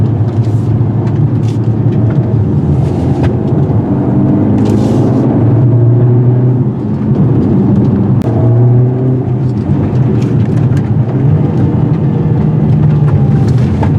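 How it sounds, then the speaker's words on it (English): A 2021 Mercedes GLA45 AMG drives on curvy roads, its steady engine and road noise droning continuously from inside the cabin, with the pitch rising and falling gently as the car moves through the bends. "This vehicle's a blast to drive on curvy roads."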